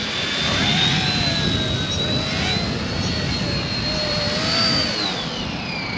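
An Eachine E110 tiny toy helicopter flying outdoors over grass, a steady high whining motor and rotor buzz with pitch rising and falling as it manoeuvres, loud and continuous with no talk.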